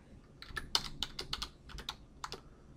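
Quick typing on a computer keyboard, a short run of crisp, close key clicks at an uneven pace, fairly quiet with no talking.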